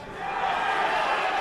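A boxing crowd shouts in a short swelling roar at a punch, a dense and sustained mass of voices at a stadium fight.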